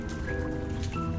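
Rain in the detective video game Lamplight City makes a continuous, even patter of drops on surfaces throughout the brief moment, with no voices over it.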